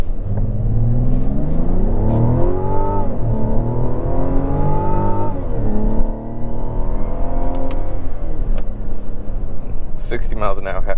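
A 2024 Mazda CX-90 Turbo Premium Plus accelerates hard, its engine note climbing steadily in pitch through the gears as a loud, continuous rumble fills the cabin.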